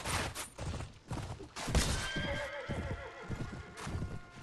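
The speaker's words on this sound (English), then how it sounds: "That was the horse" A horse in Mount & Blade: Warband (Floris Edition) gives a loud, drawn-out neigh over clip-clopping hooves amid battle noise, with no voice over it.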